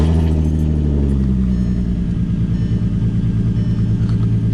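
A small car's engine idles while warming up, a close, steady low rumble with an even pulsing throb throughout, its pitch settling slightly in the first seconds.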